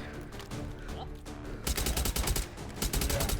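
An AK rifle firing full auto in a video game, a rapid rhythmic burst of sharp gunshots starting partway through, loud and close, with a voice talking under the game sound before the shooting.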